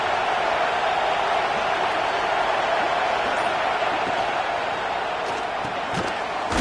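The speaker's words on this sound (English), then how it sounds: "listen to this crowd noise. This stadium is vibrating." A stadium crowd roars steadily in the NCAA 26 college football video game, a dense, vibrating wash of cheering that holds at a constant level, with a few faint thumps near the end.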